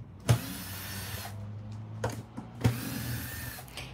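A power tool unscrews screws from an Arc Audio box in three short whirring bursts, each a sharp start followed by a brief spin, close up with no voices.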